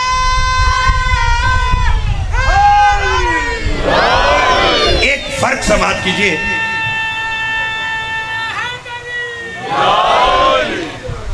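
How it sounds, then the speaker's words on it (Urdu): A crowd at a religious gathering in Pirmahal chants slogans for Ali, loud rising surges of massed voices that swell, fade, and surge again, with a voice speaking between the bursts. "اچھا میں نے علی علیہ السلام کی بات کی تو ہر جگہ سے نعرے لگے ہیں"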